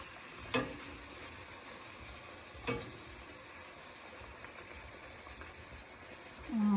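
Millet flour banana puri frying in hot oil on high heat, a steady quiet sizzle with a couple of brief sharp crackles or clinks, no voices over it.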